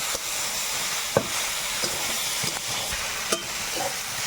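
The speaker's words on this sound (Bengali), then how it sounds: "আদা আর কাঁচা লঙ্কাটা দিয়ে একটু শুকনো শুকনো করে ভেজে নেবে" Ginger and green chillies dry-fried in a pan on a Sundarbans cookout, a dense steady sizzle and hiss close up with a few faint scraping taps from a stirring spoon.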